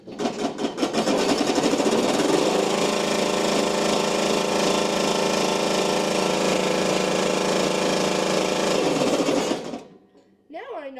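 A Powersmart cordless snowblower runs empty with a loud, steady motorized whir and buzzing rattle for about nine seconds, then cuts off abruptly, leaving near silence.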